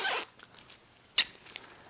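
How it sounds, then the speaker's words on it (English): A plastic zip tie is ratcheted tight around a bundle of zip ties, giving two quick, crisp zipping rasps close up, each a short burst separated by a pause, plus faint clicks in between. "Take one zip tie, zip it around the rest of the zip ties."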